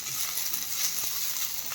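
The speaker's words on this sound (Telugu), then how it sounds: "ఇలా మంచిగా ఫ్రై చేసుకోవాలి ఆకుని" Mint leaves frying in a pan of oil give off a steady, even sizzle with faint stirring, and no one speaks over it.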